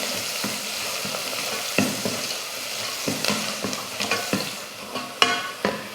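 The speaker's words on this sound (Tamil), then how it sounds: "இப்போ இதை வதக்கிடலாம்" Small onions sautéing in a pan with cinnamon and cloves for a mutton curry: a continuous close sizzle and fry with repeated scraping stir strokes and spoon knocks, no voices.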